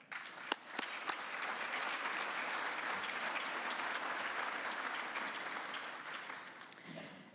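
Steady, fairly faint applause from a crowd at a Polk County and Prairie Meadows Racetrack & Casino luncheon, holding evenly for several seconds before tapering off.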